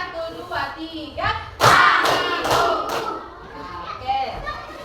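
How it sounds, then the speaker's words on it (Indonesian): Children in a classroom doing a counted rhythmic clap, several spaced group claps and thuds mixed with kids' voices and chanting. "tepuk 1, 2, 3"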